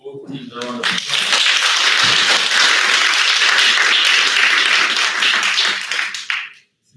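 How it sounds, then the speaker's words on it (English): A debate audience gives a sustained, loud round of applause for both teams, dense clapping that swells quickly and then cuts off. A voice speaks briefly just before it starts. "can we just give both teams a round of applause?"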